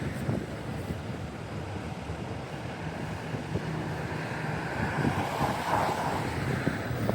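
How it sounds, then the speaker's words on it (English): Wind buffets the microphone in a constant, rumbling roar during a night walk through a downtown street, with low gusty noise filling the whole stretch and no one speaking. "Get a little more windy right here for some reason."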